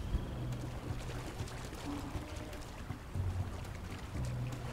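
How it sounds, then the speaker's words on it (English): Water sloshing and pouring at a river in the Conan Exiles survival game, soft continuous splashing and trickling with a few louder surges, fairly quiet and close. "Fill up your water while we're down here."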